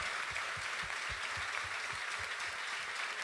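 Faint rhythmic hand clapping from a church revival congregation, a steady beat of claps repeating about three times a second, distant under a wash of room noise.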